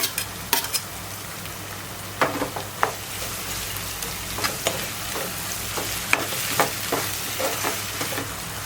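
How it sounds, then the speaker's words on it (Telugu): Tomato and onion frying over a low flame for fish pulusu, a soft steady sizzle under repeated sharp spatula scrapes and clinks against the pan, spaced irregularly throughout, with no talking. "టమాటా ఉల్లిగడ్డ మగ్గే వరకు వేయించుకుందాం"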